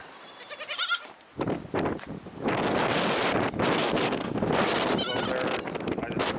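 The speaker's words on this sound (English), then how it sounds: "It's pretty windy out too." Strong gusting wind buffets the microphone outdoors on a stormy day at a goat farm, a loud continuous roar filling most of the clip, with goats bleating faintly at the start.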